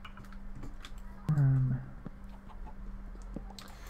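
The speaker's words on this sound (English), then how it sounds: "I should be killing those chickens." Minecraft chickens give one short cluck over quiet game ambience, with faint keyboard clicks tapping steadily throughout.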